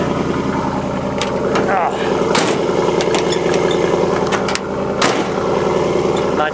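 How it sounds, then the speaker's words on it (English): A loud Dodge truck engine idles close by with a deep, steady rumble throughout, joined by sharp metallic clicks and a brief voice. "Living in the South, you gotta have a loud ass truck."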